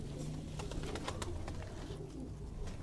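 Keede wala pigeons in a Quetta loft coo in low, soft repeated calls, with some scattered chirpy bird sounds mixed into a constant noisy background.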